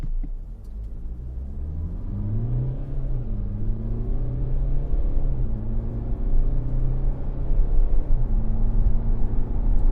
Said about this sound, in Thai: ตอนนี้เราจะมาลอง 0 ถึง 100 ในโหมดสปอร์ตนะครับ